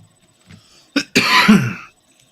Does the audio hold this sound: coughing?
yes